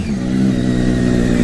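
A motorcycle engine rumbles close beside a moving car, a loud, steady low drone with a slight rising rev throughout.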